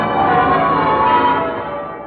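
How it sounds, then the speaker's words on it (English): Church bells of Westminster Abbey in London peal on VE Day, a loud, sustained, overlapping ringing that fades slightly toward the end. "Those are the bells of victory ringing on VE Day in Westminster Abbey, London."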